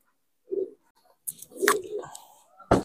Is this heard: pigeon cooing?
yes